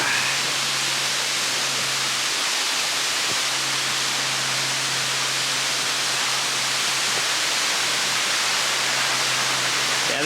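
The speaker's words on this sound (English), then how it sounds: "Well, here's the falls." Jones Falls waterfall on the Appalachian Trail near the Elk River, a steady, full broadband rush of falling water that holds at constant loudness throughout, with no voices.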